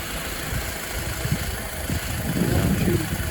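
A 2008 Honda Accord's 2.4-liter four-cylinder DOHC VTEC engine idles steadily, a low, even rumble close by with slight roughness that swells a little toward the end.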